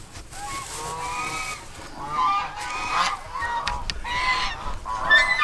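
Farm geese honk repeatedly in a noisy, overlapping chorus, several birds calling at once throughout at moderate distance.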